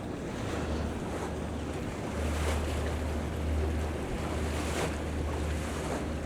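Water wells up from below in a creek during a snowstorm, making a steady rushing wash mixed with heavy wind buffeting on the microphone, with no voices.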